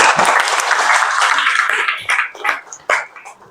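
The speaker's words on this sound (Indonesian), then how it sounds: "kita kasih aplaus" A classroom of students claps, a dense burst of applause that thins into a few scattered claps as it dies away.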